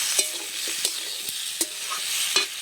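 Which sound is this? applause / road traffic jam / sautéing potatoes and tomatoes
sautéing potatoes and tomatoes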